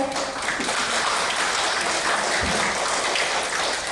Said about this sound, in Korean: 네 박수 한번 칠까요?